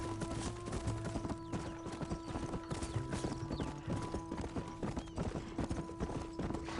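Horses galloping in a Western video game, rapid rhythmic hoofbeats continuing throughout over a steady tonal hum, with a brief whinny and faint shouts in the background.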